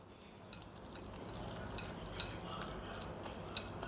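Chicken filling being mixed by hand in a bowl with ginger-garlic paste, salt, pepper powder and red chili sauce, giving a steady close-up wet stirring and squelching texture with occasional soft clicks, no talk.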